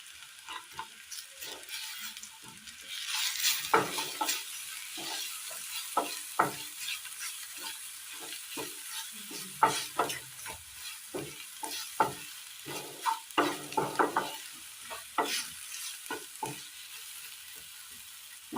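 Spice masala with meat masala, chilli powder, garam masala and pepper powder fries and sizzles in a pan for a beef and green banana dish, with repeated scraping stirs over a steady hiss, close and alone.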